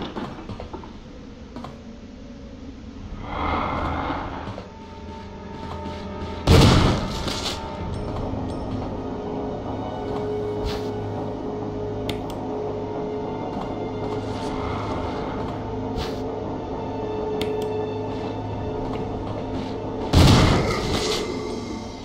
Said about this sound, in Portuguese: Dois tiros de 12 já era.